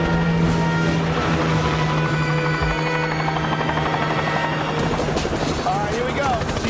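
A helicopter drones steadily with a low rotor hum and whine, close and constant, over a busy background.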